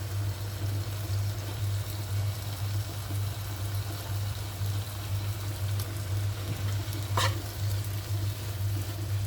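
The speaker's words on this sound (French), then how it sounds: "On va incorporer la viande hachée." Minced meat frying in a pan while being stirred, a steady close sizzle over a low constant hum, with one brief louder scrape near the end and no talking.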